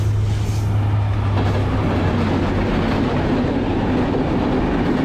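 The Benapole Express, a Bangladeshi intercity train, runs with a loud, constant rumble and low hum, heard steadily from close by.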